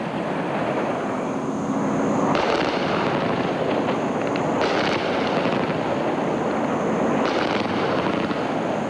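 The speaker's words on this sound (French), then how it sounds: "Les hélicoptères français tirent à nouveau pour couper l'accès à la base du 43e BIMA." French military helicopters fire their guns to cut off access to the 43rd BIMA base during street protests. Loud, continuous crackling bursts of gunfire ring out over a steady aircraft drone, with no voices.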